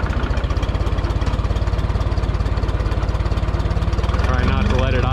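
A rebuilt Minneapolis Moline U302 propane tractor engine idles loud and close, with a rapid, even thumping pulse that stays steady throughout.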